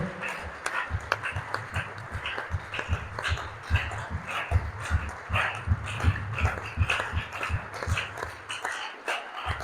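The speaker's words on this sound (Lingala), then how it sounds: "On acclame encore très fort pour la gloire du Seigneur" A church congregation claps in a steady, rhythmic beat, with a hum of voices underneath, moderately loud throughout.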